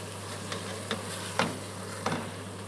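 Onions sizzle in a pan as red wine deglazes it: a soft steady sizzle under a low hum, broken by four sharp scraping stirs at irregular intervals.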